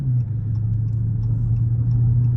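A Dodge Charger RT cruises down a highway at night, its engine holding a steady low hum and rumble from inside the car, with no voices.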